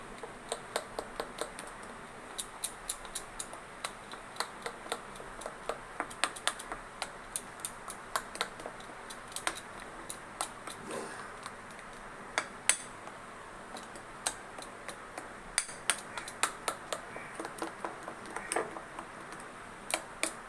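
A spoon scrapes and taps in a bowl while salt and spices are mixed for hilsa fish bhapa, giving quick, irregular clicks and light clatters, close and fairly soft, with no talk.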